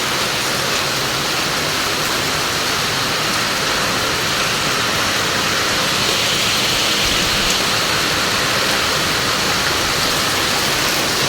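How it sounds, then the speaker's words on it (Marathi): Heavy rain pouring steadily on a pomegranate farm, a dense, loud, unbroken roar of water without pauses. "एकदम मस्त जोरात पाऊस सुरू झाला"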